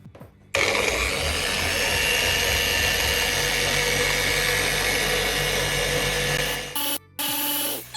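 Car polisher buffing the paint of a Porsche 911 (991) during a ceramic coating job, a loud, steady close motor whir that starts suddenly, holds for several seconds, then cuts out briefly and restarts.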